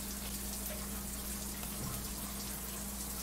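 Shower water runs steadily in a visual novel game, a constant hiss with a low hum beneath it, even and unbroken for a few seconds with no voices.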